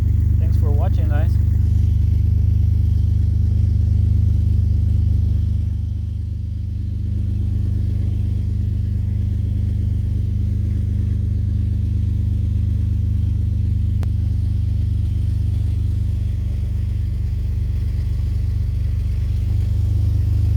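A 2002 Jeep Liberty engine idling steadily with a newly replaced muffler, a low, even rumble that holds for about twenty seconds with a brief dip partway through.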